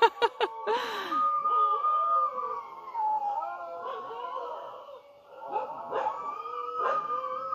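Several Shikoku dogs howl together in long, wavering wolf-like tones, preceded by a few sharp yips and barks, sustained and fairly close for most of the stretch with rising and falling pitch.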